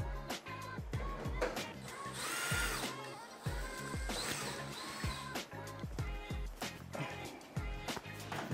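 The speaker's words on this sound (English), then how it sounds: "so let me grab you a drill" A power drill whirs and revs in repeated bursts with clattering and knocking while working on a Maytag washing machine, fairly close, with no talking.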